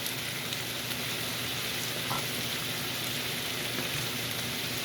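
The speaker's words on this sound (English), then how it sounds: "So get those veggies sauteed." Vegetables and tofu sautéing in a pan for a vegetarian stir fry, a soft continuous sizzle and crackle held steady and fairly faint, with no voices.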